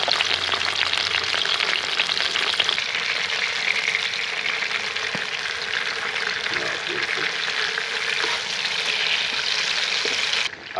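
Tomato juice and aromatics fry in oil in a pan at an Australian bush campsite, a loud, continuous sizzle with occasional light stirring scrapes and no talking.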